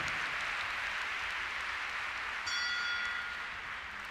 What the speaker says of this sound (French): Raccompagné Simon Delestre avec quelques applaudissements avec Cayman Jolly Jumper.